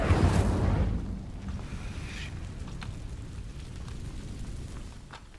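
The Incendio fire spell igniting dry vines in Hogwarts Legacy, a sudden loud whooshing burst of flame at the start that settles into a soft, steady crackling roar.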